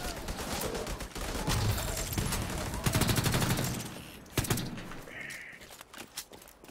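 Heavy automatic gunfire in The Division 2 comes as dense, loud volleys, then tapers off into scattered single shots and quieter sounds of the game.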